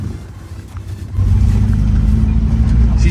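A 1984 Toyota Hilux 4x4 barn find runs, its engine starting as a low rumble that swells after a second into a loud, steady idle with heavy low-end throb.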